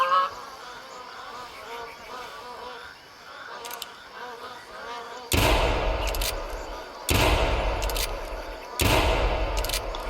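Three loud, close shotgun blasts ring out a couple of seconds apart while hunting magpie geese on a bay, following a quieter stretch of buzzing insects and faint outdoor ambience.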